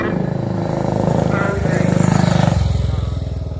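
A vintage motorcycle with a JAP engine idles steadily up close with a throbbing, pulsing beat, while someone talks over it, at Brooklands Museum.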